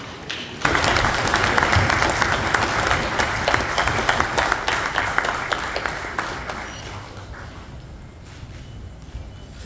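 A senate assembly applauding standing senators, a loud sustained wave of clapping from a large crowd in a hall, starting abruptly and gradually thinning toward the end.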